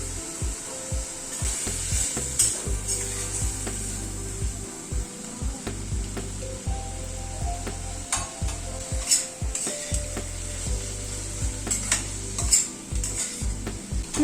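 Spice paste frying with vegetable stems and potatoes in a pan, a steady sizzle broken by frequent scraping and clattering stirs of a spoon against the pan, close and continuous with no talk.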